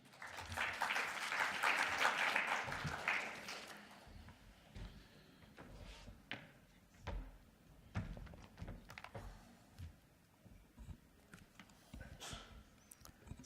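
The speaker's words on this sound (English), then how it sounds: "Please give her a round of applause." An audience applauds speaker Gwen Lister at a public forum, with loud clapping for about three seconds that then thins into scattered claps, thumps and taps.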